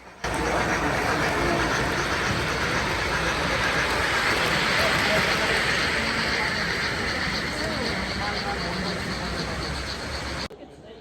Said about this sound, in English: watch some awesome model trains work on this layout